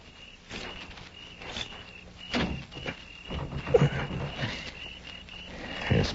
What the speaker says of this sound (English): I'm going to try the door.